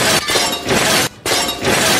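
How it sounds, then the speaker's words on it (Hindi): Glass bottle shattering effect, two sharp bright crashes in quick succession separated by a brief silence, loud and close with no voices. "अपने सर पे शीशा फोड़"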